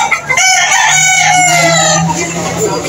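A rooster crows loudly and close by in one long, drawn-out call.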